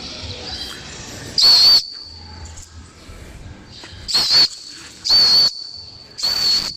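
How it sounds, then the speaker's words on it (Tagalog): A whistle is blown outdoors in four sharp, piercing shrill blasts with short gaps between them, loud and close, against a quiet background. "Ayan natin yung pito."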